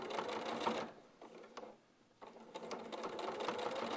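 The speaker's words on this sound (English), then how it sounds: "I just tend to do a few stitches at a time and then lift the foot up and the presser foot and just reposition" A domestic sewing machine whirs in short runs of a few stitches at a time, stopping briefly in the middle and then starting again. The motor buzz is close and steady, and nobody speaks.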